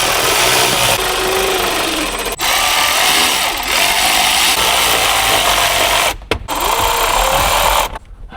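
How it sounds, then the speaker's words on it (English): A power driver runs in long, loud whirring bursts close by, driving the mounting screws for an aftermarket head unit in a 2019-2023 Chevrolet Silverado, stopping briefly between bursts. "All right, screw this in."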